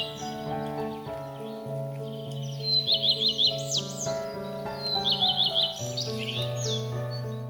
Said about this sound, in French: et le rouge-queue à front blanc.